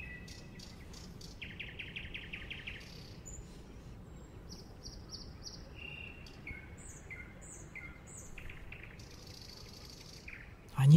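Several birds chirp and trill outdoors in a botanical garden, with short repeated calls at moderate distance over steady insect buzz and faint rustling.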